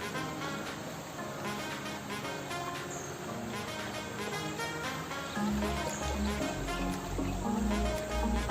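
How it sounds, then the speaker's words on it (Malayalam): Stream water flows steadily near Seetharkundu waterfall in the Nelliyampathy foothills, a continuous trickling wash with insect chirps above it, growing louder and fuller in the second half. "വെള്ളം ഒഴുകുന്നുണ്ട്."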